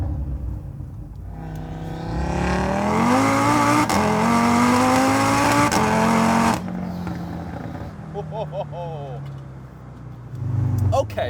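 A 780-horsepower Audi RS3 roars up from idle, launching and revving hard through rising gears for several seconds, then eases off, with voices talking near the end.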